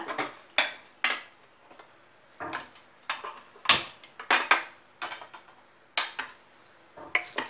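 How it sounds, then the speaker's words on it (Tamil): A ladle scrapes and clinks against a pot while pongal is stirred after ghee goes in, a series of sharp, close knocks in an uneven rhythm with quiet gaps between. "இப்போ வந்து இதில் கொஞ்சம் நெய் விட்டு நல்லா கிண்டிக்கிடுவோம்"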